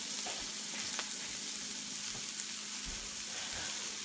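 Garlic being added to a hot pan of mashed malanga dish, frying with a steady close sizzle and occasional soft stirring clicks, no talking.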